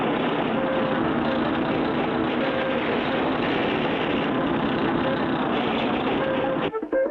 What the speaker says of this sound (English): We'll use this as a bulldozer to push the oily sand back